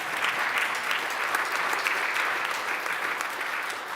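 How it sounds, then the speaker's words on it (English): Steady applause from a congregation at a Unitarian Universalist service, many hands clapping densely and evenly throughout, with no voices over it. "You can clap, please clap."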